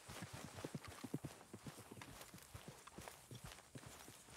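Horse hooves clip-clop steadily in a rhythmic walking pattern in Red Dead Redemption 2, fairly close and even, with no talk over them.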